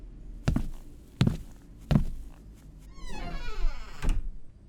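A door is shut in a quiet room, giving a few dull thunks with a brief creaky slide near the end, all fairly soft with no talking.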